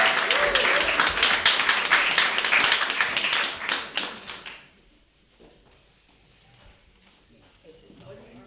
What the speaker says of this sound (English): So a round of applause for Nahuel.